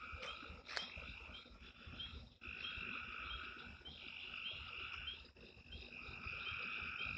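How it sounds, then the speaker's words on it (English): A dense chorus of frogs croaks and trills steadily through a night-time countryside scene, a continuous layered pulsing that carries on alone at moderate loudness with brief dips, insects faintly mixed in. "At least you can hear the frogs are singing tonight."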